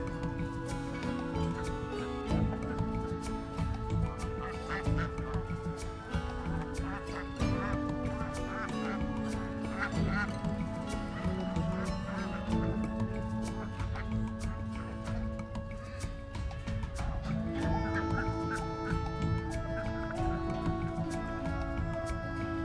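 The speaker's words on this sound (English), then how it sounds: "Did you know that ducks from different regions actually develop different quacks?" A dense, continuous chorus of backyard ducks honking and quacking, many birds calling at once without pause throughout.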